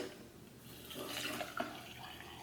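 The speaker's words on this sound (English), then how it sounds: "Let's just scoop our tea right into that infuser and pour in our water." Water poured into a tea infuser for loose-leaf lemon tea, a soft trickling splash that swells for about a second and then settles into a quiet fill, heard close and alone.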